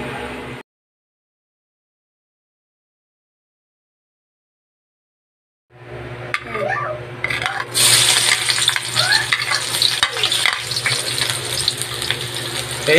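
Garlic sizzling in a hot pan for pork binagoongan with eggplant, starting after a pause of silence: a steady bright frying hiss with occasional stirring clinks, close and fairly loud.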